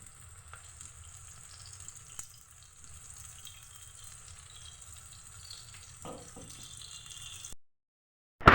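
Ivy gourd pakodi, a spiced fritter of dondakaya, frying in hot oil gives a steady low sizzle and bubbling throughout, fairly quiet, before stopping abruptly near the end.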